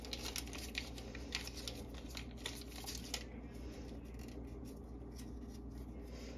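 A stick of butter is unwrapped and cut on a kitchen counter, with faint crinkly wrapper rustles and light knife taps close by that fade to quieter handling toward the end.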